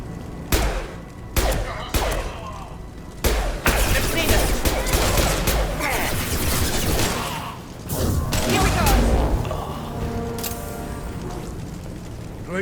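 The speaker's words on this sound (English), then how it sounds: "Blue Suns and Vorcha shooting anything that moves" Sci-fi shooter firefight with Blue Suns mercenaries and Vorcha in Mass Effect 2, loud bursts of rapid gunfire and sharp individual shots, intense sustained volleys with crashes, voices faint underneath.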